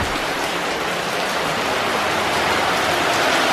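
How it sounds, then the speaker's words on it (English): Heavy rain pours down steadily outdoors over a backyard pool excavation site, a dense, loud, unbroken wash of drops with no pauses and no voices. "it never rained and now it's coming down"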